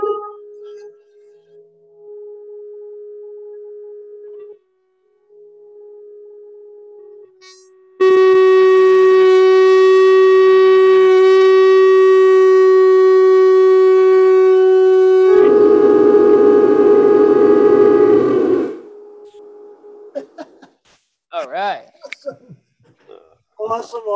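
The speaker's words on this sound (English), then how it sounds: "Double shofar blast." Two ram's horn shofars blown together in a long sustained blast, loud and close, with a harsh wavering texture near the end, followed by brief excited voices.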